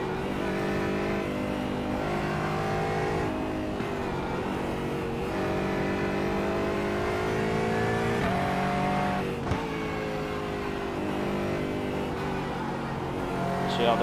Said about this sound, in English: There's a car approaching. Watch your mirrors.